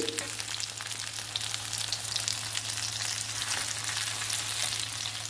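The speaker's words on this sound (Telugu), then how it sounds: "ఇలా ఫ్రై అవ్వాలి వంకాయ" Brinjal pieces fry with ginger garlic paste in oil, producing a dense, continuous crackling sizzle that holds steady and close throughout with no voices.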